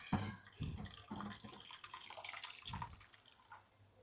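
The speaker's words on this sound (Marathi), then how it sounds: "आता याच्यात आपण पाणी टाकून ठेवूया कोथिंबीरच्या ह्याच्यात." Water being poured into a bowl to soak coriander, a faint splashing trickle in short uneven bursts, heard up close in a quiet kitchen.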